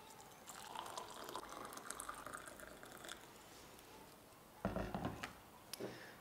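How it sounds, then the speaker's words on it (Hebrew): Hot water runs into a disposable grinder being refilled, a soft continuous splashing fill that gives way to a couple of louder gushes near the end, faint and close with no talk. "אז אנחנו נמלא מים חמים"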